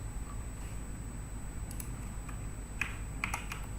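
Keystrokes on a computer keyboard while entering a formula into a spreadsheet, a few sparse clicks and a short burst of taps near the end over a steady low room hum, with no talking.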